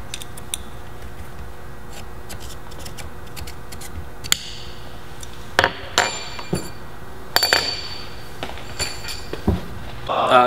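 Metal rods and handles on a ProMediaGear DSLR video rig clink and knock in a few sharp, close taps, loosely grouped in the second half over steady low room noise.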